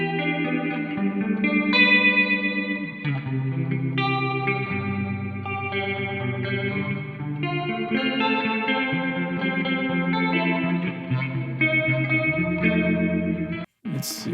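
Sustained electric guitar chords through a Phaser 9 amp-sim effect, a swirling, sweeping modulation, played steadily for several seconds before a brief dropout near the end.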